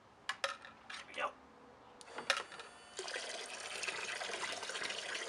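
A small water pump starts up and spouts a flow of water, first a few sputtering gushes and splashes, then a steady loud rush of pouring water close by.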